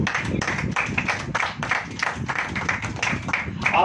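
A church congregation clapping together during a Hindi sermon, a dense run of rapid overlapping claps that holds steady throughout.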